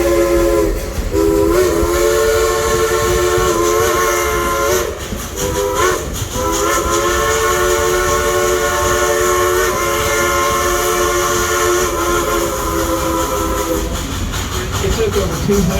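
Steam locomotive Engine 192, Klondike Katy, chugs loudly and steadily at Dollywood while its whistle blows long, sustained tones over the running noise, fading near the end.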